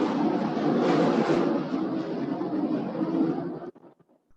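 Airplanes pass overhead, a steady broadband roar that holds for several seconds and then abruptly drops away near the end, with no talking.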